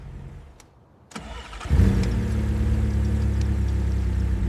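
An abandoned supercar found in a Texas field cranks briefly, catches and fires up, then settles into a loud, steady, smooth idle close by.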